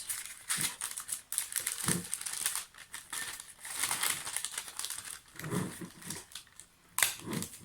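Tape being pulled and wrapped around a parchment paper lantern cover on a jar, with crinkly rustling and tearing sounds coming in close, uneven bursts, no talking.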